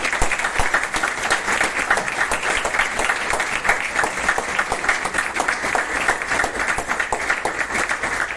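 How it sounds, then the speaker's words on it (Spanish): Steady audience applause at a talk, a dense continuous patter of many hands clapping, fairly loud and even throughout with no voices on top. "Un aplauso allí."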